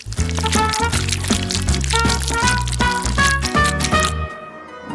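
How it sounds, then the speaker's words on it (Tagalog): Water poured over a paper drawing, a steady loud splashing pour running almost continuously before cutting off near the end, close up with no talk. "Pinubuhusan ng tubig ang labobo na ito."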